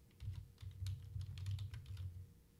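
Quiet, steady typing on a computer keyboard, a fast patter of light key clicks held under a low constant hum, heard alone at a distance.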